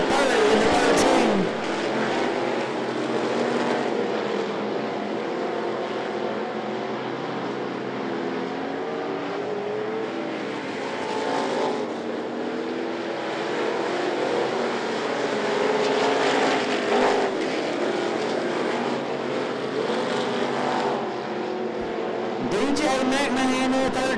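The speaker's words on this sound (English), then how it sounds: "Sims, McMahon racing for second, the third in the 13." Race cars roar around the I-75 Raceway oval in a continuous, loud, dense engine din that swells and fades as the pack passes, with announcer commentary mixed in.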